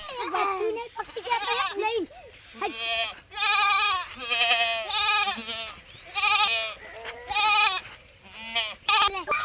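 Several goats bleat loudly in repeated, wavering cries, one after another at close range, with a person's voice calling out between them.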